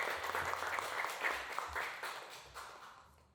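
Audience applause at the opening ceremony of the Hoyeon art exhibition, steady crowd clapping for about three seconds that gradually fades toward the end.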